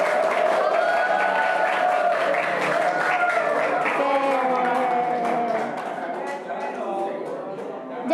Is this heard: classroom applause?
yes